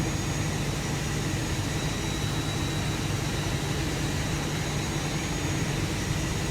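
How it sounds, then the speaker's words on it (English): A jet airliner engine starting in the X-Plane flight simulator makes a steady, loud broadband roar with a faint high whine, continuous throughout with no talk. "Starting engine 2."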